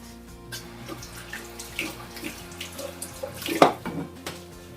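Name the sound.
tap water running while washing hands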